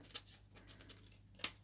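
Scissors trim overlapping corrugated card wrapped around a cardboard tube, giving a few quiet, sharp snips and small crisp clicks spaced apart in a quiet room.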